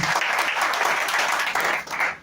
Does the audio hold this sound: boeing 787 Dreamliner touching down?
no